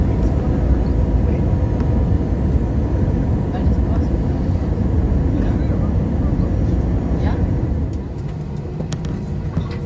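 Inside the cabin of an airliner taxiing after landing at Malta airport: a loud, steady low rumble of engines and rolling wheels, with a voice speaking over it at times.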